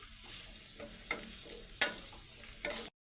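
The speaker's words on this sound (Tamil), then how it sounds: "சேர்த்து கிளறி விடணும்" Beans and carrots being stirred in a frying pan for chilli parotta with a soft sizzle, scraping strokes and a few sharper clinks of the spoon, close and fairly quiet.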